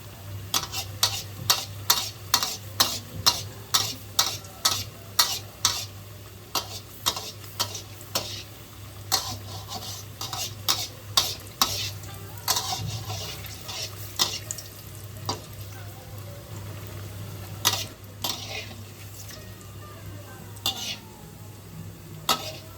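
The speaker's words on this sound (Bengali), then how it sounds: "যেহেতু বাড়িতে আমরা অল্প তেলে ভাজছি, তাই আমি দুটো ভাজছি" Egg devils fry two at a time in a little oil at home, a low sizzle under a repeated run of sharp metallic clinks and scrapes of a utensil against the pan, with a steady hum beneath and brief talk.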